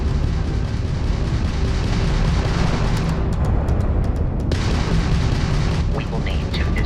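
A Crimson Fleet ship fires its weapons during Starfield ship combat, a dense barrage of loud booming shots and rapid pops over a roaring backdrop, with some speech mixed in.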